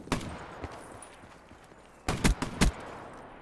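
Shotgun blasts in the video game Black Ops 3 during close-quarters play: one sharp shot early, then a tight cluster of two or three heavy booming reports about two seconds later, loud and close, with faint footsteps between.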